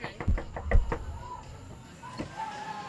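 Knuckles rap on a door at a Texas haunted house scream park, a quick series of about six close knocks, then quiet room tone with faint background voices.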